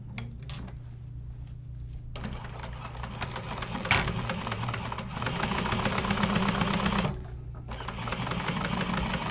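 Sewing machine top stitching through the side panel of a wallet, short motor bursts starting and stopping, with a longer steady run of rapid needle stitching in the middle.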